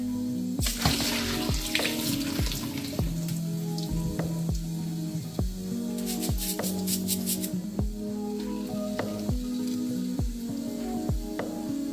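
Tap water runs into a bowl of jasmine rice being rinsed, a continuous splashing stream with repeated sharp knocks and clinks of grains and bowl, close and fairly quiet.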